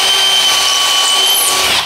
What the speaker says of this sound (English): Drill a couple of little pilot holes